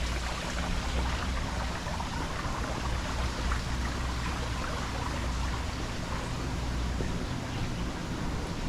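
A waterfall splashing among palm trees at a Florida apartment hotel, a steady, dense rush of falling water heard at a constant level with no voices.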